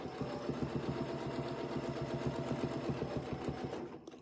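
A sewing machine stitches over a crosshatching pattern with a continuous close mechanical whir and rapid needle clatter, then stops abruptly near the end.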